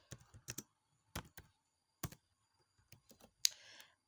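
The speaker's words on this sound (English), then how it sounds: "I just type all of them in here" Scattered clicks of typing on a computer keyboard, close by, in short irregular bursts with pauses between keystrokes and a sharper click near the end, in a quiet room.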